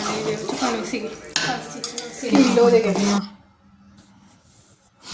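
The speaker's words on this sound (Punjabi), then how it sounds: "ਇਹ ਆਪਾਂ ਚੰਗੀ ਤਰ੍ਹਾਂ ਸਾਰੇ ਡਰਾਈ ਫਰੂਟ ਮਿਕਸ ਕਰ ਲਾਂਗੇ" Dry fruits such as almonds, poppy seeds, cashews, edible gum and melon seeds being stirred together in a pan for Punjabi panjiri, with scraping and clinking of a utensil against the pan for about three seconds, then near silence.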